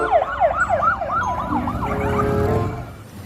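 A toy police motorcycle's siren wails in a fast, repeating up-and-down pattern, loud and close, then fades into a steadier, softer tone toward the end.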